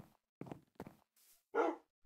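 A guard dog in the Minecraft video game gives a few short, clipped barks and a breathy whine, separated by brief silences, fairly quiet and alone.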